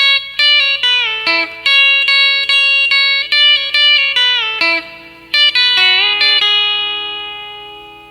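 Electric guitar with a B-bender plays a lead line, a run of picked, bent and pulled-off twangy notes ending on a ringing note that fades out, close and alone.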